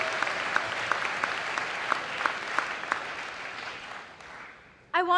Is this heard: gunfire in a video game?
no